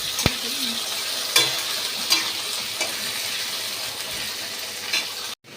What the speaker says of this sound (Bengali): আলুগুলো আমি একটু লাল লাল করে ভেজে নেব